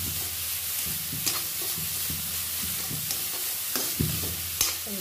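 Grated coconut fries in a pan on high flame, a steady soft sizzle with repeated scraping and tapping of a spatula stirring at an irregular pace, close and moderately quiet.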